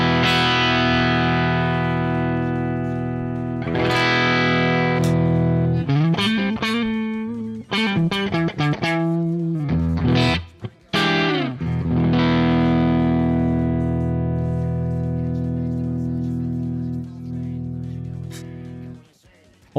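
Telecaster electric guitar through an amp simulator and cab, no pedals: loud, overdriven chords ring out with long sustain, then a burst of choppy strums and short bends before the sound fades away.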